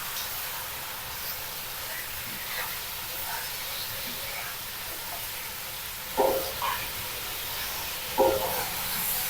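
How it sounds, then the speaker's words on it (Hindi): Mutton frying in a pan over a medium flame, a faint steady sizzle and hiss with two brief clinks of stirring. "मटन को पहले हम अच्छी तरीके से मिक्स कर लेते हैं और मिक्स करते हुए हमने मटन की 2 मिनट तक मीडियम फ्लेम पर बुनाई कर"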